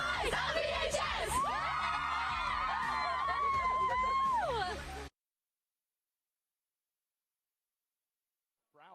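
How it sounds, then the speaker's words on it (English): A large crowd at a Friday night high school football game in Utah roars with whoops and yells, a loud sustained burst of cheering that cuts off abruptly into silence. "Absolutely huge crowd broadcasting tonight."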